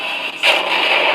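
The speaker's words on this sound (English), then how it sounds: "Got a loud cannon though." A sharp, loud electronic cannon blast from a 1/72 scale toy tank bursts out suddenly, followed by a buzzing, crackling tail that lingers for about a second.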